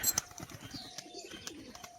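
A male Kagoji tumbler pigeon gives soft, low coos with a few sharp chirps and clicks, close by in a quiet setting, without any talking.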